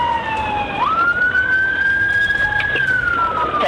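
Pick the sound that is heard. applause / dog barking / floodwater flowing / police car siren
police car siren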